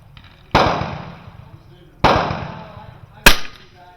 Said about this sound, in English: We're going to do a 5-shot group.